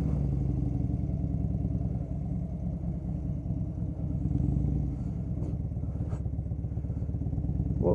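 A warmed-up motorcycle engine idles close by after a short ride, a loud, even low rumble with a faint rhythmic clatter, swelling slightly at moments before settling back; no voices.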